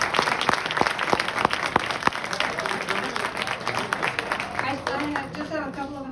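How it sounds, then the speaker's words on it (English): Audience at an evening political forum breaks into sustained applause, a dense wash of clapping with a few sharper claps standing out near the start, then settling into steady, fairly loud crowd clapping. "Tremendous applause for all."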